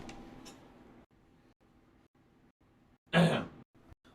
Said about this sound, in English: I'm going to blow my nose quickly.